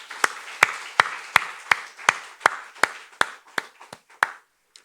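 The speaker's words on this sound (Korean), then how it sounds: "성훈 원사님께 감사하는 박수 한번 하겠습니다" Congregation at a Korean church Sunday service claps together in unison, about a dozen crisp, evenly spaced claps in a steady rhythm with nothing else in between.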